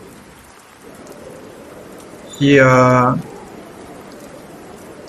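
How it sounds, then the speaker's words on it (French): Steady rain of a stormy night fills the background as tabletop role-play ambience, a constant soft hiss that carries on under a brief spoken voice. "une nouvelle nuit de tempête"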